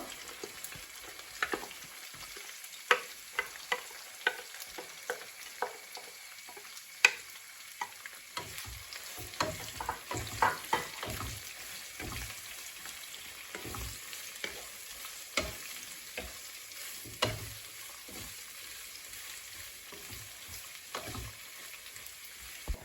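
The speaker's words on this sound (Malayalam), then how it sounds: "ഇപ്പോൾ നമ്മുടെ സവാളയൊക്കെ നന്നായിട്ട് വഴണ്ടി വന്നിട്ടുണ്ട്" Sliced onions frying in a pan with green chilies and curry leaves for a pork chops dish, a soft continuous sizzle punctuated by irregular clinks and scrapes of stirring, with no talking.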